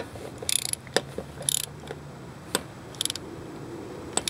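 Socket wrench ratchet turning a 3/4 socket on a stripped lug nut, giving a few sparse, light clicking bursts with quiet pauses between them and no voices.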